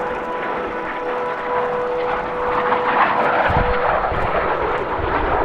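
Propeller aircraft flying in trail formation at an air show drone overhead, a steady engine roar that swells louder as the planes pass by, with no talking.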